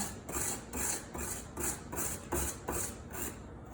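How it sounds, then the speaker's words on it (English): Fork scraping frozen jasmine granita layer by layer, a pale green ice, making about seven rough, rasping strokes in a steady rhythm, close and fairly loud with no talking. "we're going to just scrape layer by layer into this granita"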